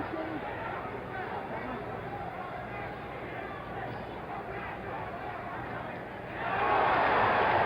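Boxing crowd at the 1973 Muhammad Ali vs Ken Norton fight, a steady distant murmur of chatter that swells into a louder roar near the end, with a commentator talking over it.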